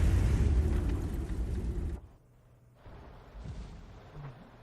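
Artillery rounds fired from a tank in a video game: a loud, heavy booming blast that rumbles for about two seconds, then drops off sharply to a quieter rumbling tail.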